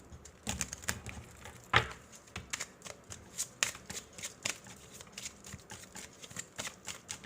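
Close, quiet shuffling of a deck of oracle cards, with a run of crisp flicks and soft riffling taps in an irregular rhythm and no talking.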